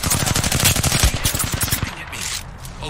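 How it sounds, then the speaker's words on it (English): Rapid automatic gunfire in the video game Apex Legends, a loud dense burst of shots close up, tapering off near the end with no talking. "Opening fire on the enemy."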